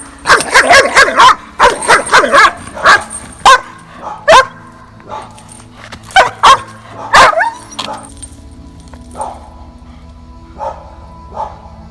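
A Belgian Malinois barks loudly and aggressively in rapid bursts nearby during an aggression test, then the barks grow sparser with whines and yips between them.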